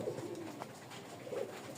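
A pet pigeon coos softly from a loft, two low, throaty coo phrases spaced across the moment with faint background hiss and no talking.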